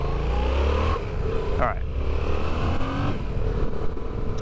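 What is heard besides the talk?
Yamaha XSR700 motorcycle engine revving while riding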